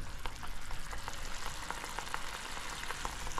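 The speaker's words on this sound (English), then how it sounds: "I'm just cooking the sauce down now" Clam sauce for spaghetti alle vongole cooking down in a pan, a steady soft sizzle and bubbling with scattered light pops and crackles, fairly quiet and continuous.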